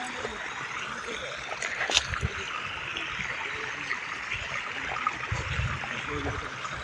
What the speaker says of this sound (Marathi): उसाला पाणी सोडलेलं आहे